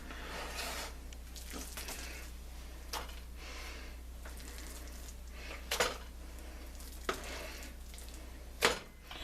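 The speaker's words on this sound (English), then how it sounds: "Now we want to top our shepherd's pie with the mashed potatoes" Mashed potatoes spooned onto a vegetarian shepherd's pie: soft scraping and dabbing with a few sharp clinks of spoon against the dish, over a steady low hum in a kitchen, no talk.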